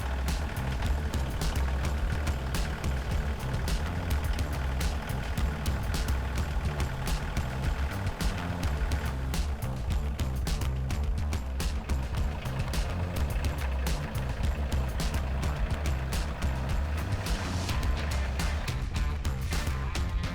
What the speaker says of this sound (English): enter the compact tractor and start your machine. Drive the compact tractor forward until the loader arms are about 2 inches from the mounting brackets.